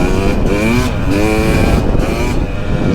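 A carbureted 2017 KTM 300XC two-stroke dirt bike engine revs loud and close, a raspy buzzing drone that rises and falls through several quick throttle blips, with no talk over it.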